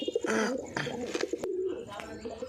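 Pigeons cooing up close in repeated throaty, rolling calls through the whole stretch, with a couple of sharp clicks or knocks mixed in.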